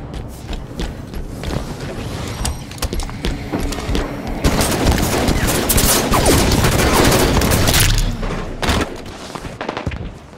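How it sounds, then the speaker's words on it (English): Halo 5 Big Team Battle gunfire, dense bursts of automatic fire and heavy thumps keep up a loud, continuous barrage, with shorter separate shots and impacts at the start and end. "Hostile fire!"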